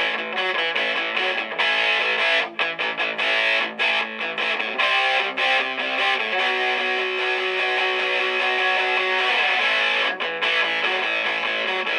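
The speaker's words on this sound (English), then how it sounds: "Regular distortion." Electric guitar through the regular distortion effect of a Boss ME-80, chugging through riffs and held chords, gritty and compressed, loud and up front with a few short muted gaps.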